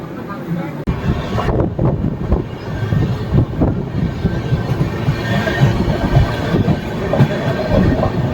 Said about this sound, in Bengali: ট্রেন আমাদের সোরো স্টেশন ছেড়ে গেল